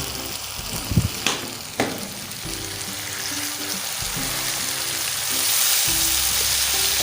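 Potato and egg bhurji sizzles in a pan as it is stirred, a few sharp utensil knocks early on, then a continuous loud frying hiss that swells toward the end, with no voices.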